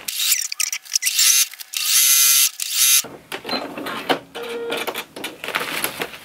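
A sewing machine stitches the seam of a homemade confetti jacket in quick bursts of rapid mechanical whirring, broken by short pauses, followed by quieter handling and rustling of the fabric.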